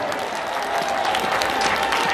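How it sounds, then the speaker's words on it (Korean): A church congregation claps together during a service, dense, steady applause filling the room for the whole stretch, with faint voices mixed in. "우리에게 승리의 약속을 주신 하나님께 영광의 박수 돌립니다"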